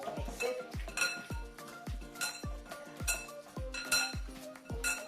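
A spoon clanks and scrapes against a metal cooking pot while chicken and onion are mixed, giving sharp metallic knocks roughly every half second, close up with no talk.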